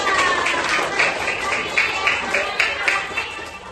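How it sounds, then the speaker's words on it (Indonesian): A classroom of students claps for group 2 in a school civics lesson, a rhythmic patterned clap with regular beats over a background of murmuring voices. "Beri tepuk dulu untuk kelompok 2."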